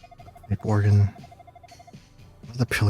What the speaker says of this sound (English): I feel like a ringing sound when I talk to him.